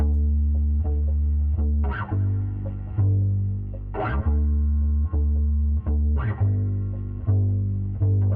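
A deep electric bass line plays a slow sequence of sustained low notes, each change marked by a plucked attack, steady and fairly loud with no voices.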